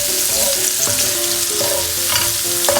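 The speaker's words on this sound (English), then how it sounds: "We'll add in some nice mushrooms. Saute these with the shrimps and the garlic a little bit." Mushrooms sautéing with shrimp and garlic, a loud, dense sizzle close up, with a few spatula scrapes and clicks over the constant hiss and no voices.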